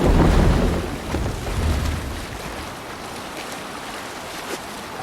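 A Viking longship under sail in Assassin's Creed Valhalla, with a rushing wash of water and waves that swells loudly at first, then settles into a softer continuous splashing, with no voices.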